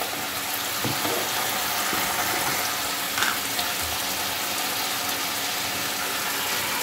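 Green chillies frying with salt in a pan give a steady, moderate sizzle throughout, with faint kitchen clatter and no voices.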